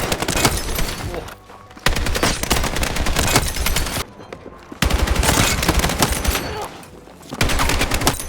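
SOR 300 gun in the Battlefield 6 REDSEC battle royale, firing in three loud, close bursts of rapid shots separated by short pauses.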